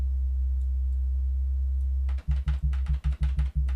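A DUBturbo online synthesizer holds a steady low tone with fine-tuned pitch, then breaks into a quick run of short, choppy repeated notes.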